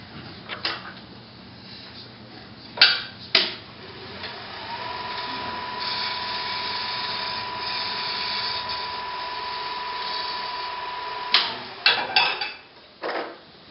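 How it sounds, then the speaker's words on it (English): A shear scrape on end grain on a wood lathe makes a steady, thin scraping whine that holds for several seconds, framed by sharp knocks and clunks of the tool and workpiece before and after. "I'm doing a shear scrape because I'm on end grain"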